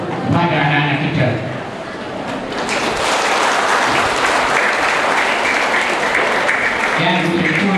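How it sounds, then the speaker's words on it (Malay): Audience applause for the children at a PLKN national service camp event, a broad roar of clapping that swells in the middle and holds steady, with someone speaking over a PA before and after. "marilah kita berikan tepukan dulu kepada anak-anak kita"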